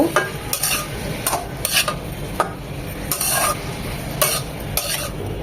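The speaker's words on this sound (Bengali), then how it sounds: "খুব ভালোভাবে নেড়ে চেড়ে মিশিয়ে নেব" Fried rice for chicken fried rice being stirred and mixed in a pan with salt, chopped green chili and pepper, utensil scrapes recurring every half second or so over a steady low sizzle, close and clear with no talk.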